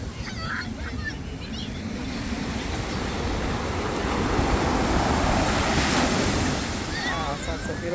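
Seabirds call over steady surf at Lovers Point beach, their scattered cries rising above a continuous wash of waves and wind close to the shore.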